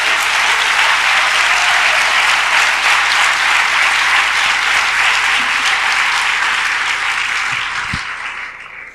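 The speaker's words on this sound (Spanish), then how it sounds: "Démosle un aplauso al Rey de la Gloria." A church congregation bursts into loud, sustained applause that fills the room for several seconds, a dense wash of many hands clapping that tapers off toward the end.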